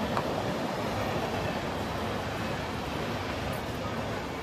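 A steady, dense rumble and rush of two trains passing nearby at a station, continuous and loud throughout with no pauses.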